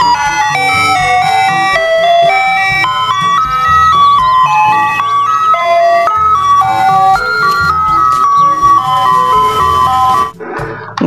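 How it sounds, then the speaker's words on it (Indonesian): A toy ice cream truck plays its jingle, a bright electronic chime melody repeating loudly and steadily, close by and alone, then briefly breaking off near the end. "Di sini ada mobil es krim, teman."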